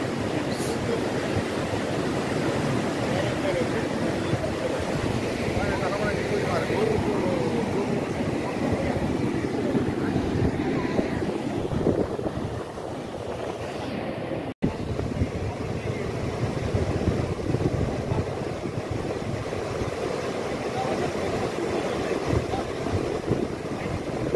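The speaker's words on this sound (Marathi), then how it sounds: "पूर्ण मांजरा नदी ओव्हरफ्लो झालेली आहे" A continuous heavy roar of the overflowing, flooded Manjara River rushing at Nagzari, Latur, broad and steady for the whole stretch, loud and close with no pauses.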